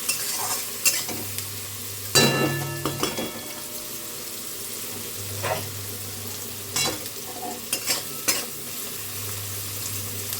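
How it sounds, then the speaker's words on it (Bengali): Onions sizzle in a pan on the stove while a utensil scrapes and stirs in intermittent strokes, the frying hiss soft and steady beneath louder clattering stirs. "তো পেঁয়াজটা এখানে সুন্দর করে একটু ভেজে নেব, একটু লাল লাল করে ভেজে নেব আর কি।"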